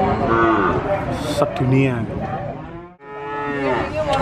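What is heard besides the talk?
cattle mooing at a livestock market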